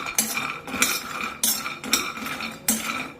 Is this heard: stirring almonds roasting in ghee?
yes